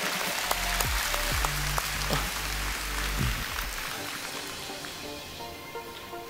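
A conference audience gives a big round of applause, with dense clapping that starts strong and gradually thins out and fades over about six seconds.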